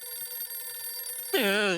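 A telephone rings at home in a TV comedy scene, a warbling electronic ring that starts loud partway through over a steady background tone.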